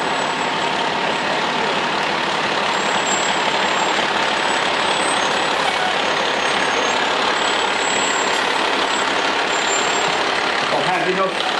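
A 2015 custom fire engine rolls along in a Memorial Day parade in Parsippany, its steady engine rumble and a hiss like an air brake running throughout while people talk.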